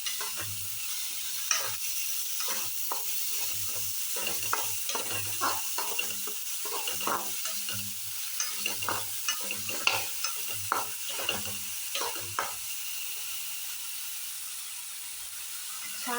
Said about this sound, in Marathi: ह्या कंडिशनला आपण मसुरा घालून घेणार आहोत हा एक तास मसुरा भिजवून घेतला आहे छानपैकी तो आपण ह्या कांद्यामध्ये परतून घ्यायचा